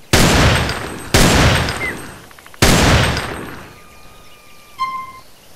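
Three loud Desert Eagle pistol shots in GTA San Andreas, spaced about a second apart, each with a long decaying echo, followed by a softer metallic clink.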